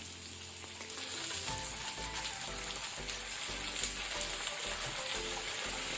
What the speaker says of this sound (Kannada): ಇದನ್ನೀಗ ನಾವು ಮೀಡಿಯಂ ಫ್ಲೇಮಲ್ಲಿ ಸ್ವಲ್ಪ ಫ್ರೈ ಮಾಡ್ಕೊಳ್ಳೋಣ.